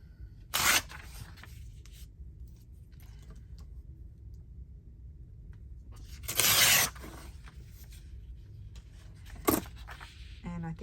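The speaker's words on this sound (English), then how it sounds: "I think I may tear that." Paper being torn by hand three separate times, short sharp ripping bursts spaced seconds apart over quiet background hum, the middle tear longest and loudest.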